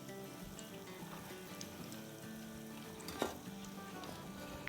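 Pakoras sizzle and crackle steadily in hot frying oil, with a sharp clink of a utensil as they are turned over; continuous close frying with no talk.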